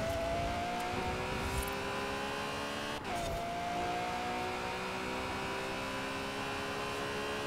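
V12 all-wheel-drive car in Forza Horizon 4, its engine droning steadily and loud under hard driving, with one short gear-change dip about halfway through and no voices.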